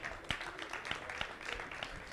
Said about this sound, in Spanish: Pues también un fuerte aplauso